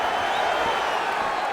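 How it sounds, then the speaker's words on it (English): An arena crowd in a UFC 5 video game fight roars and cheers steadily, a dense, continuous wash of voices rising with the action. "You hear this crowd just eating out of his hand, oohing and on every time he advances."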